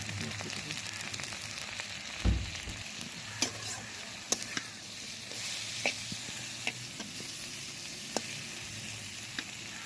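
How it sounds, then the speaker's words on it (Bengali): Boal fish and potatoes fry gently in a pan with chili, coriander and turmeric powder, giving a soft steady sizzle broken by sharp clicks and scrapes of a spatula. "হালকা একটু কষাবো"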